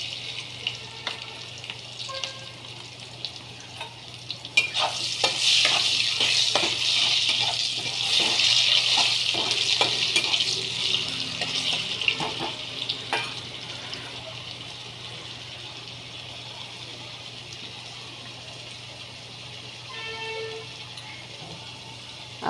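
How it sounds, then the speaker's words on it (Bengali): A small potato fries in a pan with salt, giving a steady broadband sizzle that swells and holds through the middle, with scattered clinks of stirring and a low constant hum beneath. "আলুটা ভাজা হয়ে গেছে।"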